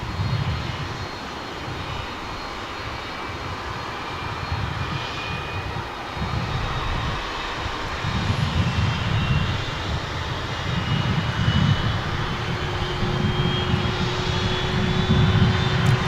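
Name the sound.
American Eagle Embraer 175 jet passing at DFW airport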